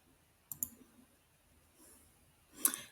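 A computer mouse clicks in a quiet room, a pair of sharp clicks early on and another pair near the end, faint and close, with no voices.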